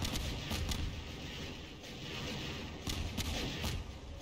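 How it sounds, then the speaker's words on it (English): Rockets and artillery pound Siren Head in a desert battle video game, a dense, continuous rumble of explosions with sharper bursts punching through near the start and end. "There's a lot of rockets hitting him."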